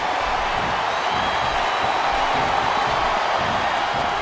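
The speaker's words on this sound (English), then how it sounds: "Sounds like this crowd's got something on their minds, King." Steady roar of a wrestling arena crowd in WWE SmackDown vs Raw 2007, a continuous broad wash of cheering that holds at an even level throughout without distinct peaks.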